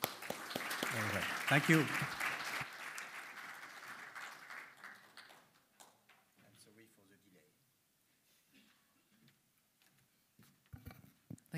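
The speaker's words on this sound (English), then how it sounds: "we can applaud them" Audience applause after a panel on railways and a humanitarian crisis swells loud for about three seconds, then thins to scattered claps and dies away, with a speaker briefly talking near the end.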